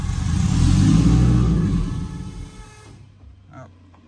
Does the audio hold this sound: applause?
no